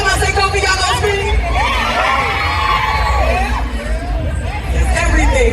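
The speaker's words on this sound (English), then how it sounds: "Every time I say Kofi, y'all gonna scream" A festival crowd at an outdoor conversation event screams, whoops and cheers loudly and continuously, with many high shrieking voices layered over a dense roar of the audience.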